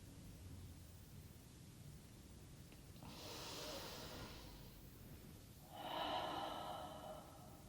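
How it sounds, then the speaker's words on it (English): Deep pranayama breathing exercise: a slow, long inhale followed by a long, airy exhale, each a soft close breath sound over a quiet background hiss. "Take a deep breath in, deep breath out."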